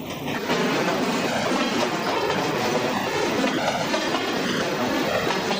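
Freight train pulling out of a rail yard at speed, steady loud rumble of wagons with continuous clickety-clack of wheels on track, no voices.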